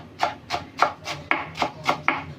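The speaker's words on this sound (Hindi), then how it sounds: "बारीक कोरिएंडर चॉप कर लेंगे" Fresh coriander being finely chopped with a knife on a board for garnishing chicken karahi, seven crisp evenly spaced knife strikes in steady rhythm, close and clear with no talking.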